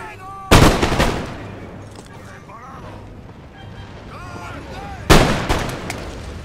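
Musket volleys in the strategy game Empire Total War: two loud, sharp crackling bursts of massed gunfire a few seconds apart, each fading into rumbling echoes, with someone speaking and battlefield shouts between them.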